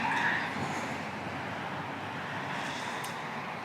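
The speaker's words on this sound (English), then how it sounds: "A lot more cars going by." Steady road traffic washes past at moderate distance, a continuous broadband rumble of cars with wind buffeting a microphone, no clear individual pass-bys and no talk.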